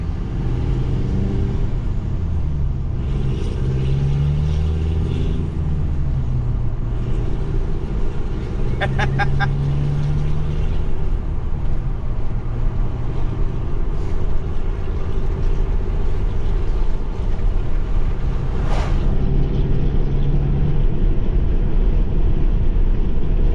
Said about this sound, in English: Yeah, that truck moves for a 4-cylinder.